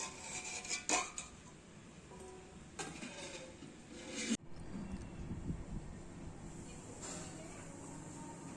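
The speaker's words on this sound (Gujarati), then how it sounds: "તો આપણે એને ઢાંકી દઈએ એક ડીશ" A ceramic plate set over a bowl of herbal hair oil: a few sharp clinks and scrapes of dishware at close range, spaced apart over a quiet room background.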